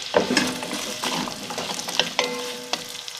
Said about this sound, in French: Je vais faire revenir mes carottes.